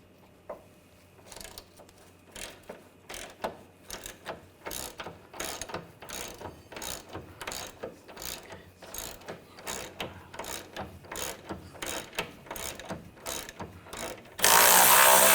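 Ratchet wrench with 16mm and 18mm sockets removing a nut and bolt from the front suspension of a 2000-2006 BMW X5 3.0L during a CV axle replacement; a long run of steady, close, rapid clicking bursts with no talk, ending in a loud noise burst.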